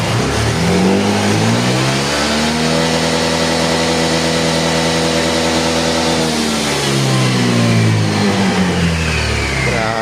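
A Honda Click 125 scooter engine is opened to full throttle, its pitch climbing steadily, holding high, then dropping back and rising again, loud and close with no talking.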